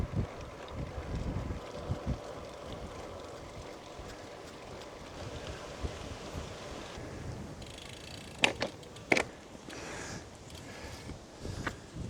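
Strong wind buffeting the microphone on a long road-bike climb in the Goriška Brda hills, a steady roaring rush with gusty swells and a few sharp knocks near the end, no voice.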